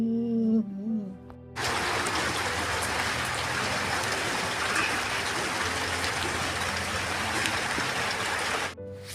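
Steady, dense rain pours down for most of the clip, a loud continuous hiss that starts abruptly after a brief hum of voices and machinery.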